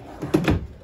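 A kitchen drawer in a 2015 Crusader 30BH travel trailer sliding open or shut, one quick, close wooden thump and scrape lasting under a second.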